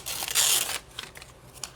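Masking paper is crinkled and torn by hand while altering the pages of a single-signature journal, giving a close, dry rustle with a louder ripping burst early on, then softer intermittent crinkles.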